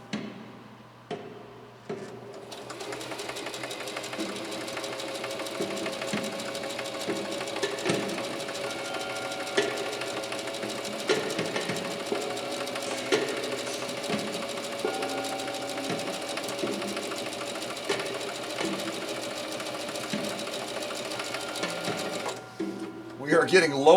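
A Singer Heavy-Duty 4423 sewing machine drives a building-block stitch through two layers of commercial upholstery fabric, chattering rhythmically and close for about twenty seconds without stopping, with a voice faintly over it.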